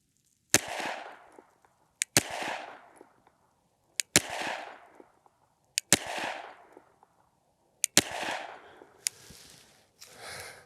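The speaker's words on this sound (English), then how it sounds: "So first time shooting this gun ever out of the box." A SIG P365 XL Comp pistol fired slowly outdoors at about five yards: six sharp, loud shots spaced roughly one and a half to two seconds apart, each trailed by a short ringing echo, with a faint click or two between.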